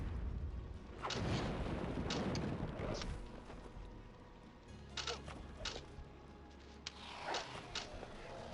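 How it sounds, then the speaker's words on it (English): Sharp crackling lightning spell strikes from the video game Summoner, several bright bursts with rumbling tails spaced across the stretch, fairly faint overall, with a little talk in the background. "This is lightning, right?"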